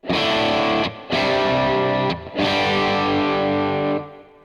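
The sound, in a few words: guitar through Quad Cortex capture of Earthquaker Devices Plumes pedal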